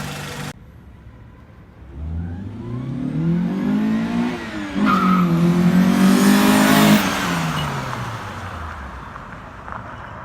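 A Honda Civic with a B20 engine swap passes at 60% throttle, its engine note rising as it approaches, peaking loud and close, then falling away with a whining tone.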